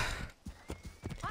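A horse's hooves clip-clop in a quick, uneven rhythm, with a short whinny, fairly close and clear, in Assassin's Creed Origins.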